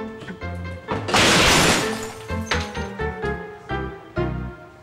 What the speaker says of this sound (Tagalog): Sir, yung fishbowl, nabasag?